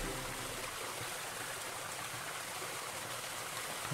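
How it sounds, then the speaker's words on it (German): A waterfall in the game Die Sage von Odysseus gives a continuous, even rushing hiss of falling water, soft and steady throughout. "Wasserfall."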